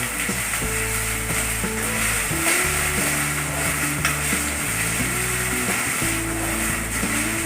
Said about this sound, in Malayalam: ഇത് ഒത്തിരി നേരം നന്നായി തന്നെ ഇളക്കി കൊടുക്കാം